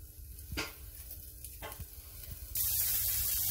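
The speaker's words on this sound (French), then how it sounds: "on met les lardons dans la casserole, à sec, pas d'huile, rien du tout" Lardons sizzling in a dry saucepan with no oil, a steady close frying hiss with a few stirring scrapes, the sizzle growing louder and fuller toward the end.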